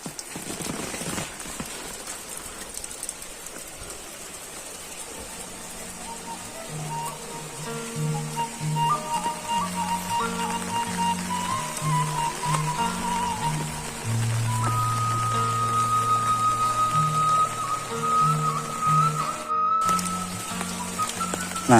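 Rain patters steadily on surfaces in an Indonesian countryside village, a soft continuous wash behind which distant tonal sounds, like a whistle or music, drift in and out.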